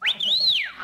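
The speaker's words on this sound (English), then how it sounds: "you were whistling at her now, weren't you?" A man gives a single short wolf whistle at a woman, a bright rising then falling tone lasting under a second, close and clear.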